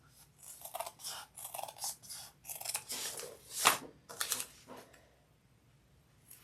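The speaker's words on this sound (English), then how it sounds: "I'm just going to trim mine down a little bit." Scissors snip and trim down a canvas fabric seam for a bucket bag, a close series of crisp cutting strokes in uneven bursts that fades to quiet at the end.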